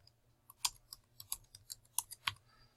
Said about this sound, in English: So I'm just going to type in